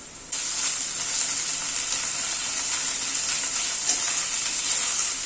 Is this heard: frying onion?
yes